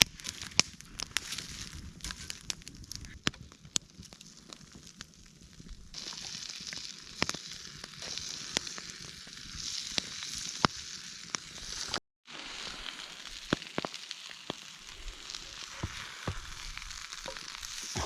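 Homemade codfish cakes cook with a soft, crackling sizzle, punctuated by sharp pops and spits, close and fairly quiet, with a brief dropout near the middle and no talking.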